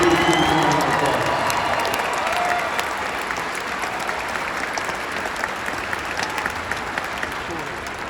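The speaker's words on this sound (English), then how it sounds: "give them a huge round of applause" A large livestock show crowd applauds for young cattle exhibitors, a dense, loud wash of clapping with some cheering that gradually eases off.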